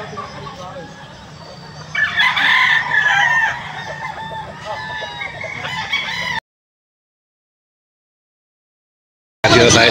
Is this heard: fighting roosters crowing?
yes